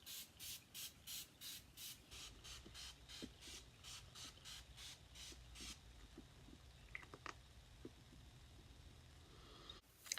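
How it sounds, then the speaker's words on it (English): A handheld pump bottle of setting spray mists onto a face in a quick run of about a dozen even, close bursts, followed by quieter handling and light rustling. "I'm going to go on and spray my face"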